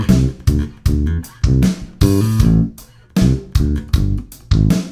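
A funk bass line on bass guitar is played slowly along with a backing track: punchy, separated phrases with a clear start-stop rhythm and short gaps between the notes, loud and close, with no talking.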